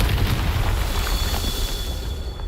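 A Confringo blasting spell explodes in Hogwarts Legacy, heard as a dense, steady low rumbling boom that fills the whole moment without a sharp single crack.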